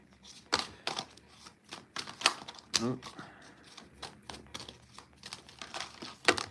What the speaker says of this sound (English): I'm going to shuffle just 2 more times